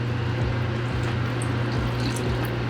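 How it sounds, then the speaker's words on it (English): Homemade beef stock pours into a pan, a steady low gushing of liquid with a few soft splashes, close and continuous. "Next to the pan, we're going to throw in about a gallon of some homemade beef stock here"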